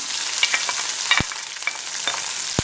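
Peppers fry in hot oil for a tomato sauce, a steady loud sizzle with occasional scraping stirs and soft clicks running throughout.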